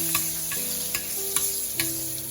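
Butter melting in hot oil in a frying pan for Malaysian tofu sambal, sizzling steadily with a few sharp crackles and pops, close and continuous without talking.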